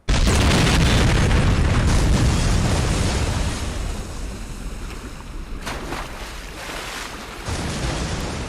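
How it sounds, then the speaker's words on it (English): A deadly explosion at the waterfront in the Saints Row game on Xbox, starting with a sudden loud boom and then a long roaring rumble with crackling debris and water that fades and swells again. "A deadly explosion has rocked the waterfront."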